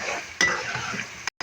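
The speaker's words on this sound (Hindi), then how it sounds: "अब अच्छे से इसको हम मिक्स करके इसकी बुनाई कर लेंगे थोड़ी सी।" Boiled white chickpeas being stirred into chicken chana pulao in a pan, a steady scraping and stirring with a soft sizzle throughout and a sharp clatter near the end.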